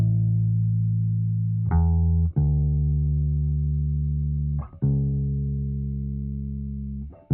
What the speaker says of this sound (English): So let's keep our bass line super simple here.